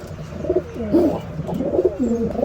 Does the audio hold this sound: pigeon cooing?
yes